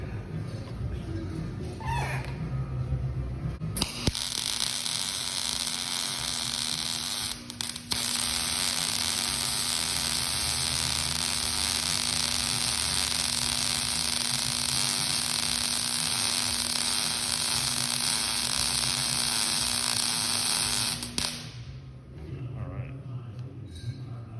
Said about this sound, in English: all you gotta do is just weld away